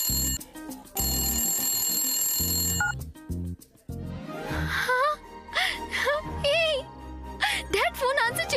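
A telephone rings in repeated electronic bursts at the start, followed by a short silence and then people talking, apparently on a call.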